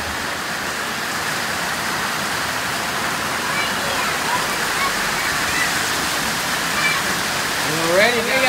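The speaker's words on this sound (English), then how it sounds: "today we play on the rain" Steady rain falling outdoors at a family gathering, a continuous hiss of drops on surfaces from start to end, with voices coming in faintly near the close.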